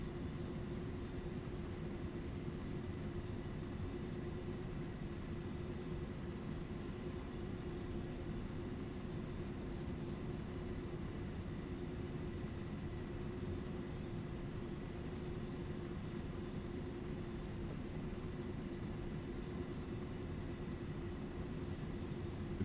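A container train bound for Augsburg rumbles steadily in Train Sim World 3, with a continuous low engine drone and rolling wheel noise, even and unbroken throughout, with no talk.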